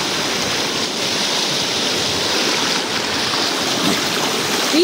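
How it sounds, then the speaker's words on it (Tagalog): Constant rushing river water at Mambukal, Bacolod, Philippines, a broad steady wash of flowing stream noise up close with no pauses. "Water."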